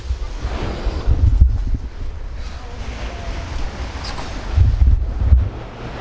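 At New Brighton, sea waves crash in under heavy wind buffeting the microphone, with two louder low surges of surf rolling through a constant roar.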